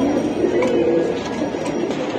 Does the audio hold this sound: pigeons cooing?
yes